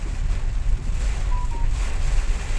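Strong gusty wind on the coast at Rosario, Batangas, roaring steadily close to the microphone, with a faint thin whistle rising briefly through the rumble.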